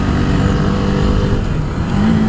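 A KTM Duke 390 motorcycle accelerates hard on an open road, its engine a loud, steady roar filling the whole clip, close up with no talking.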